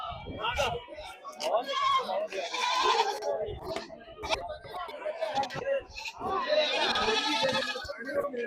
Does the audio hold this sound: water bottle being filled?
no